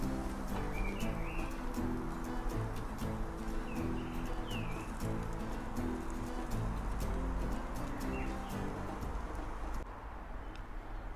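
Birds sing and chirp in trees outdoors on a sunny day, with scattered faint calls and cooing over a steady rumble of background noise that continues throughout.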